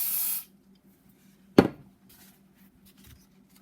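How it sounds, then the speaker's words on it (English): An aerosol can of brake cleaner gives one short, loud hissing spray up close at the start during a BMW 135i N54 engine rebuild, followed by near silence and a single sharp knock. "another shot of brake cleaner."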